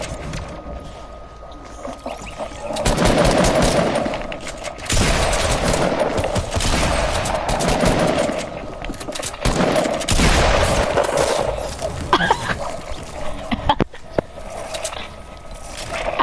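Bursts of rapid video game gunfire, several dense volleys of shots over a steady background, fairly loud and close, with no one talking.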